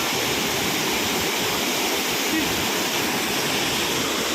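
Shifen Waterfalls in Taiwan roar as a loud, constant wash of falling water, steady and close throughout with no break.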